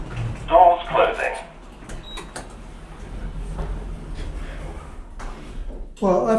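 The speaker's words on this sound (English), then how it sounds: "Doors closing." Sliding doors on a UK train closing with a few soft thumps and a clatter, over a steady carriage hum, with a brief muffled voice near the start and again at the end.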